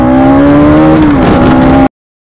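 A car engine revs steadily at close range as the vehicle pulls away on a road, its tone dipping briefly mid-way before holding, then cutting off abruptly.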